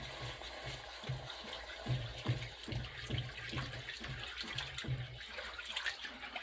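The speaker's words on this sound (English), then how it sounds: "I'm gonna pour some water in here." Water splashes and trickles into a pan of steak gravy paste in uneven gurgling bursts, quiet and close, with no talking.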